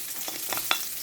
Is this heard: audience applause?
no